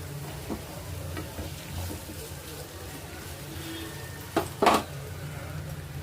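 Cloves, cinnamon, onions and green chillies frying in a little oil for a dhaba-style cashew curry, a low steady sizzle with soft scattered stirring, then two louder clattering scrapes of a spoon against the pan near the end.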